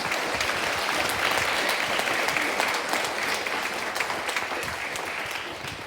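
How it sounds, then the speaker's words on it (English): Sustained, dense applause fills the hall as a school presentation-day audience honours its Stage 3 teachers, holding at an even, loud level throughout. "let's make a round of applause for our Stage 3 teachers."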